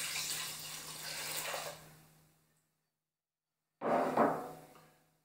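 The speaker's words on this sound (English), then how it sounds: "To that, we're adding 550 grams of water." Water is poured into a bowl for Calvel sourdough bread mix, a soft splashing stream for about two seconds that fades out, then a second brief pour after a short silence.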